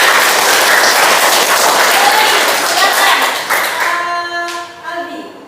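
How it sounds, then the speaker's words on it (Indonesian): A classroom of students applauds a classmate, a dense burst of many hands clapping close by that thins out and fades, with a teacher's voice speaking as the clapping dies away. "tepuk tangan untuk Vina"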